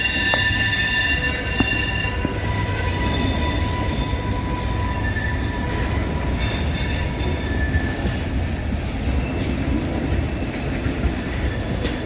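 A freight train led by an ES44DC locomotive rumbles steadily past at close range in Elkhart, with wheel squeal and rhythmic clatter of railcars throughout, no talking.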